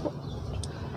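Kabir chickens on a small farm give a soft, brief cluck close by over a low background hum.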